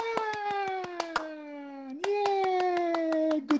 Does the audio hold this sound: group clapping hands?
yes